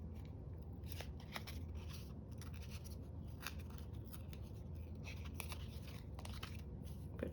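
Scissors snip and trim paper for a junk journal, a steady run of close, crisp cuts and rustles with no talking.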